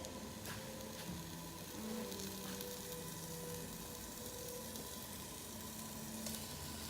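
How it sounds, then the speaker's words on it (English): Steady hiss and crackle of turkey meat sizzling in a hot pan with red bell peppers, continuous and close, with faint background hum and no talking. "I love the sound of sizzles"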